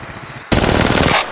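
Rapid automatic gunfire from the Apex Legends Mobile video game, a loud dense burst of shots lasting under a second after a quieter lead-in, close and alone.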